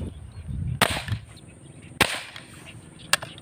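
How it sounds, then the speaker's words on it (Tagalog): An air gun fired three times for fishing from a bamboo raft, each a sharp close crack about a second apart over faint outdoor background noise. "Bumabaril na naman."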